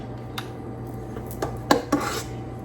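Ice cream scoop working strawberry mousse into a dessert dish: soft scraping and a few light clinks of metal against the container, close and quiet with no talk.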